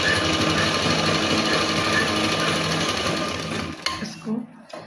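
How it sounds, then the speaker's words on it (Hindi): A sewing machine stitches the belt of a salwar suit with a continuous, rapid mechanical whirr that slows and stops near the end, followed by faint handling noises. "तो यहाँ से जो खुला भाग है उसे सिलेंगे पहले इस तरीके से"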